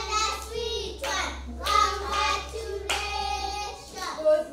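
Hands clapping in applause for a child in a classroom lesson about proteins, several bursts of claps spread across the moment with children's voices mixed in.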